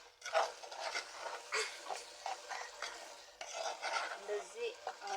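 Corn flour is stirred and lightly fried in oil in a pot for lentil soup, giving a quiet, steady scraping and stirring with a soft sizzle in an even, repeating rhythm.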